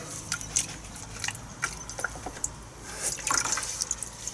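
Running water rinses dyed deer hair meant for fly tying, a steady splashing stream from a tap with brief drips and gurgles, close and continuous.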